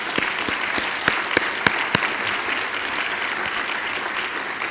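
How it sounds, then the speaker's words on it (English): Audience at a university alumni hall of fame induction ceremony applauds steadily, a dense wash of clapping with a few sharper claps standing out, no voices. "Let's give them a round of applause, though, for all of their efforts."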